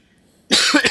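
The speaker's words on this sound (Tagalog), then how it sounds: "Ako din, may ubo ako." A single burst of harsh, wet coughing from a person with a cold breaks a near-silent stretch and runs loud and close to the end.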